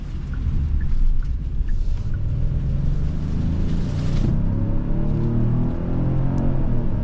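A Genesis GV70 2.5T SUV cruising on the road, a steady low engine and road rumble heard from inside the cabin without talk.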